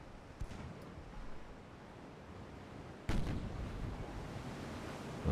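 Torpedoes launching in the naval strategy game UAD, heard as faint dull thumps and then a heavier boom partway through, followed by a low sustained rumble.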